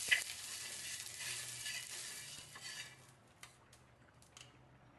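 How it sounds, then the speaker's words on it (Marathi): Oil sizzling on a hot tava griddle over a gas flame, a soft hiss that is strongest at first and fades away, followed by a few faint clicks of utensils. "तवा गरम झालेला आहे. आता त्यावर थोडंसं अगोदर मी तेल लावून घेते सर्व साईडनी."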